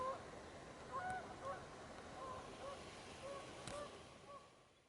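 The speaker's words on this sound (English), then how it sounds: "You hear that goose?" A goose honks repeatedly at a distance outdoors during a camping trip, faint calls spread through steady wind-like background noise.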